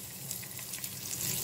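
Green chilies, ginger and curry leaves sauté in a pan with a brief, close, even sizzling hiss and a low background hum.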